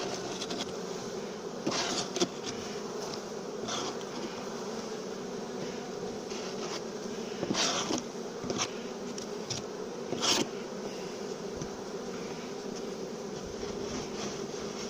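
Honey bees swarm and buzz around an open brood box while a nuc is prepared for winter, a dense steady drone filling the whole stretch with a few louder passes as bees fly close.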